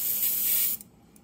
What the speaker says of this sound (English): I'm gonna try to control it by just spraying it very carefully.